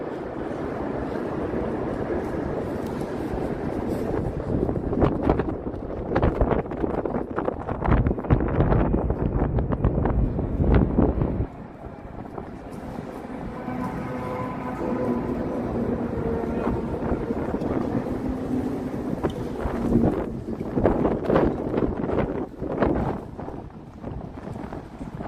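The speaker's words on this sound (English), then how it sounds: "Wind sounds." Strong wind buffeting an outdoor microphone during spring in Washington DC, a loud continuous roar with gusty surges, easing briefly partway through before rising again.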